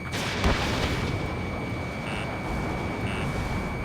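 A missile fired at a stray UAV in the video game Ace Combat 7: Skies Unknown. A sharp launch thump is followed by a roaring rush under a steady jet drone, with brief warning tones later.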